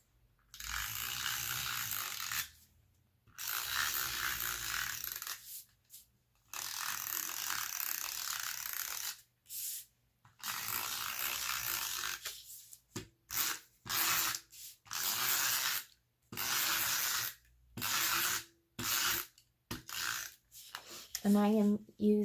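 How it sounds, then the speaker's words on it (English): Tombow Mono Dots permanent adhesive tape runner pressed along paper sheets while assembling a scrapbook page kit, heard as many repeated short ratcheting clicks and scrapes in bursts with brief gaps, some rapid and close together. "I am using the tombow dispenser, mono dots adhesive, if anyone's interested. It's a permanent tape runner."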